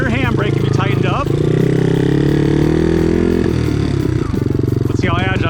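A vintage Honda XL trail bike's engine runs loud and close, a rough steady rumble that swells and sags, with a person speaking over it at the start and the end.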